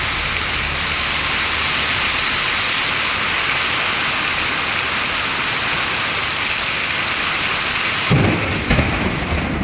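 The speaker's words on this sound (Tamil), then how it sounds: "திடீரென 1 மணி நேரத்திற்கும் மேலாக சூறைக்காற்றுடன்" A sudden heavy downpour with strong gusting winds and thunder roars continuously and loudly, a dense wash of rain and low rumbling that changes abruptly near the end.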